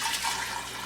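Sweet tea poured from a small pot into a container in a kitchen, a steady, unbroken splash and trickle of liquid lasting the whole moment, fairly close and alone.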